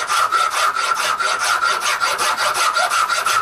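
A hand file rasps back and forth across G10 knife handle material in quick, even strokes, a close, loud, rhythmic scraping repeated about a dozen times with no talking.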